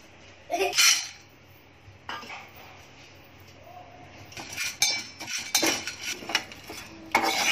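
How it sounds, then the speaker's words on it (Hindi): Dried prawns are roasted in a pan, with a metal utensil clinking and scraping against it in irregular bursts, close and fairly loud, separated by quieter pauses. "अब मैं सोरे भून रही हूँ जो आपको दिखा रही हूँ"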